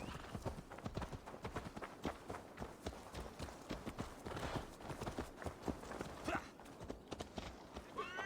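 Horse hooves in the video game Assassin's Creed Valhalla clip-clop in a quick, steady rhythm, close and continuous, with a brief whinny-like sound near the end.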